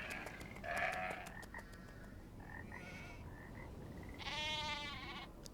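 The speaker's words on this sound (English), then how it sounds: "Sheep. Sheep. It's so funny. Sheep." Sheep in the Nancy Drew mystery game bleat in several short nasal calls spaced apart, faint and alone, one near the start and a longer, stronger bleat near the end.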